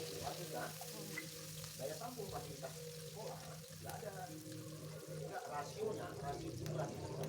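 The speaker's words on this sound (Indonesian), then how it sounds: "Panaskan minyak, masukkan 9 siung bawang merah iris. Tumis sampai layu sampai wangi." Steady sizzling of shallots frying in hot oil, with occasional stirring clatter and a person talking over it throughout.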